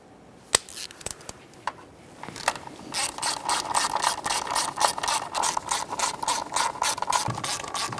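A ratchet clicks in fast, steady bursts while snugging the 8mm fuel rail mounting bolts on a 2006-2012 Ford Fusion 3.0L V6, after a few isolated knocks at the start; close and fairly loud, with no talk.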